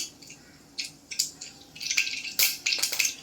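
Half a spoon of mustard seeds splutters in hot oil over a lowered gas flame, giving sharp, irregular crackling pops in short close bursts with no talking.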